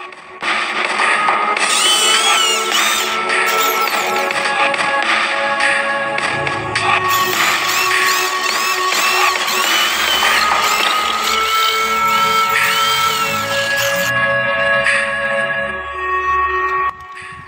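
A power drill bores holes in a thick chrome steel bracket for raising the rear footstep on a Shogun SP Smash motorcycle, a loud close whining grind with shrill metal squeals, stopping and restarting over several long passes.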